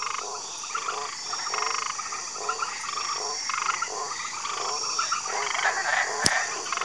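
Pouched tree frogs croak in a steady, rapid chorus of raspy calls, fairly close, with a single sharp click near the end.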